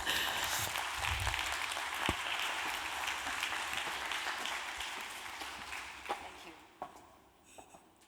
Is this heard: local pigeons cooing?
no